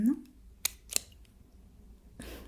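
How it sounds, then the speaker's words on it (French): Small scissors make two crisp, close snips about a third of a second apart in a quiet setting, with a soft voice briefly heard at the start. "Maintenant, je vais utiliser des petits ciseaux"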